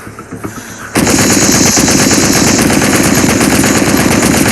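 Mounted machine gun in the zombie video game Into the Dead opens up after a brief quiet moment, then fires in a loud, continuous stream that lasts to the end with no let-up.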